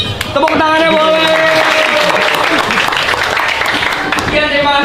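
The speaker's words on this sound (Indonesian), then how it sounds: "Tepuk tangannya boleh." A crowd in a high school classroom claps and cheers loudly, with voices calling out and talking over the dense, continuous applause.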